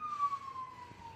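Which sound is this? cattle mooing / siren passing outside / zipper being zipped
siren passing outside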